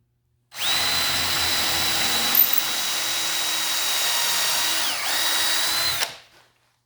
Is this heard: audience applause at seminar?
no